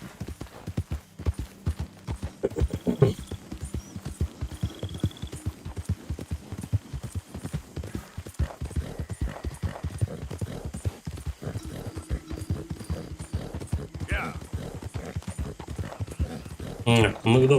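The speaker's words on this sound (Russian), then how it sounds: "Лошадки вон нарисовались." Horse hooves clip-clop steadily in the video game Red Dead Redemption 2, a loud, continuous rhythmic trot of several horses arriving at a house at dawn, with a faint whinny and ambient hum.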